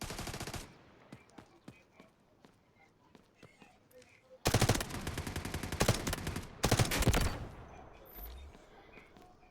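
Burst fire from an M4A1 rifle in the Delta Force Mobile video game, sharp rapid shots at the opening and two longer loud bursts later on, with quieter scattered in-game sounds between them.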